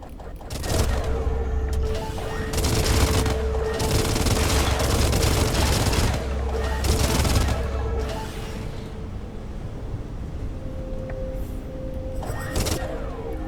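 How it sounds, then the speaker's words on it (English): Coil gun fire in the space combat game Everspace 2, a dense burst of rapid shots and booms running for about eight seconds, then settling into a quieter engine hum with a few sharp blips near the end. "Efficient coil gun, eh?"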